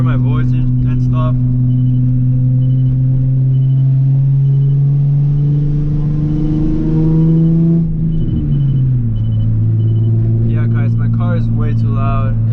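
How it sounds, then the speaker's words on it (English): A loud car audio system fills the cabin with heavy bass tones that hold steady and then shift to a lower pitch, with brief voices at the start and end. "I just want you guys to experience how loud my car is."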